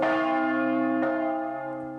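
A church bell rings with a single struck tone whose rich harmonics ring out and slowly decay, struck once more near the middle, loud and close with no voices.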